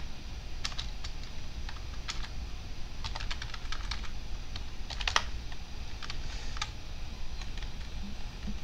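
Rapid typing on a computer keyboard, clusters of crisp key clicks with short pauses, close and steady over a faint background hiss.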